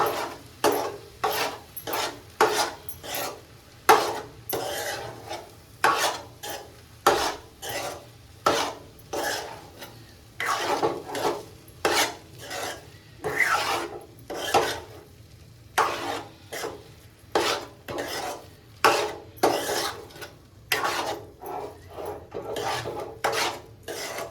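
Egg fried rice is stirred and scraped in a pan with a spatula, giving close, rhythmic rasping strokes repeated steadily throughout with short pauses between them.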